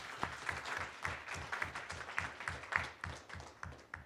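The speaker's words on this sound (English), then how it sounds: "Can we give a round of applause to them," An audience at a senate town hall claps in steady, dense applause, fairly soft and heard from a distance, with no voices over it.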